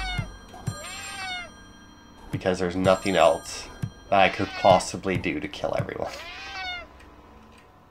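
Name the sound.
cat meowing in Friday the 13th Killer Puzzle video game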